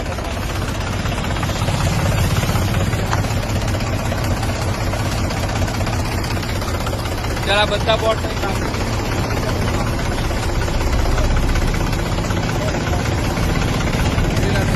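A tractor engine idles outdoors at a farm, a loud continuous low rumble with steady knocking throughout, while several people talk and argue over it.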